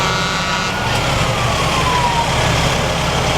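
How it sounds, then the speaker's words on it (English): A huge fire department ladder truck from the Park River rural fire district rolls past during a Fourth of July parade, a loud steady engine rumble with a faint siren tone sliding down partway through, no talking. "Huge ladder truck coming by."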